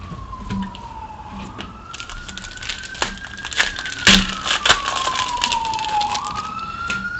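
A wailing emergency siren sounds outside, its pitch sliding up and down steadily at moderate distance, with some background clatter.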